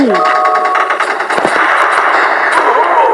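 Rapid machine-gun bursts in a shooting video game, loud and continuous with a fast rattling rhythm, and excited voices talking over the shots.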